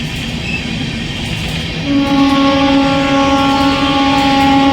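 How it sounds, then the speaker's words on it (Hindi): The Tamil Nadu Express passenger train passes close by through dense winter fog, a loud rumbling roll joined partway through by a sustained, tonal wheel squeal or horn that holds steadily to the end. "भाई साहब पहले फॉग देखिए, क्या फॉग को चीरते हुए जा रही है।"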